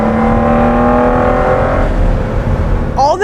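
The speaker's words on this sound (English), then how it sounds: "It sounds throaty." Throaty, close engine drone from a Ford GT Carbon Series V6 holds steady and loud, then eases off and dips before a short rising blip of revs at the end.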